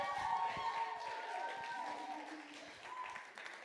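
Scattered clapping from a small studio audience at a comedy night, fairly faint and thin, mixed with crowd murmur and voices talking over it.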